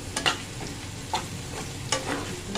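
Onions fry in a pan for a home-cooked Bengali dish, giving a continuous close sizzle broken by a few sharp scraping stirs. Nobody speaks.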